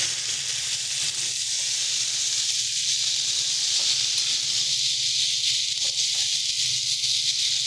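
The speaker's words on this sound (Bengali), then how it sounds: "এটাকে ভালো মতন করে আমরা কষিয়ে নেবো" Steady, even sizzling and hissing of spices frying in a pan as a curry with flat beans and lentil dumplings is sautéed, continuous and fairly loud throughout, with no speech.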